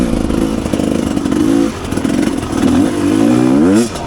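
A Rieju Ranger 300 two-stroke dirt bike fitted with an FMF Gnarly exhaust, revved close by in loud rising and falling bursts with a crackling, buzzy tone, ending in a sharp climb and drop.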